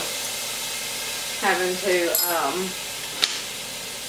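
Minced garlic sizzles in a hot pan with a soft, steady hiss, while a person talks briefly over it.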